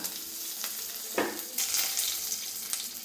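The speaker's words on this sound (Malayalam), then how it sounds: "അപ്പോൾ നമ്മുടെ വെളിച്ചെണ്ണ നന്നായിട്ട് ചൂടായിട്ടുണ്ട് അതിലേക്ക് നമുക്ക് കടുകിട്ട് കൊടുക്കാം ഇതിലേക്ക് ആവശ്യത്തിന് കറിവേപ്പിലയും ഇടാം" Mustard seeds and curry leaves hit hot coconut oil in a pan, giving a steady close sizzle with sharp bursts of crackling and popping as they fry and are stirred.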